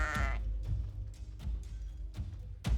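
Sheep in World of Warcraft bleat in a short series of nasal calls, one loud cry at the start and several fainter ones spaced across the clip, without talk.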